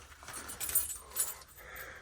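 A small bunch of keys jingles in a few brief, light clinks as they are passed from one hand to another, with faint background noise between the bursts.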